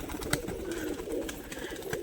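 A hand-held pigeon coos in low, murmuring bursts, with a few sharp clicks and rustles close by and steady background noise throughout.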